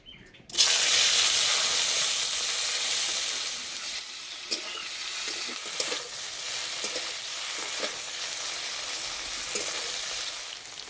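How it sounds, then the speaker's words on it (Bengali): Paneer, cut into thin long slices, sizzles and spits in hot mustard oil in a kadai, a loud steady frying crackle that starts abruptly and carries on with scattered pops and occasional stirring, no voices. "কড়াইয়ে দেবো সর্ষের তেল। এই তেলে আমি পনির ভেজে নেব।"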